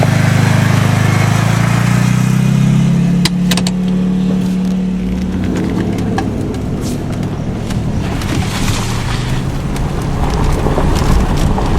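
A Land Rover engine drones steadily and loudly while driving off-road, with a low rumble that shifts in pitch partway through and wind buffeting the microphone; no one speaks.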